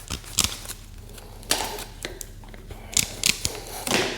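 Plastic pot mesh being snipped for repotting a Cattleya orchid, a series of sharp, close cutting clicks and crunches in irregular bursts, with no speech.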